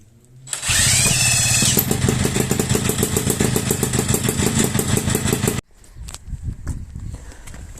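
Peugeot Ciao moped with a Polini kit starts and revs hard, a loud buzzing two-stroke roar held for several seconds that cuts off abruptly, followed by quieter clattering and handling noises.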